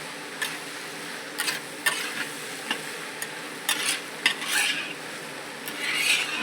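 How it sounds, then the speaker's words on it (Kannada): Broken wheat stirred in a hot pan for a large batch of daliya khichdi, soft scraping and faint sizzling with occasional light clinks of a spoon against metal, quiet and steady. "ಗೋಧಿ ಕಣ್ಣನ್ನು ಹಾಕಬೇಕು."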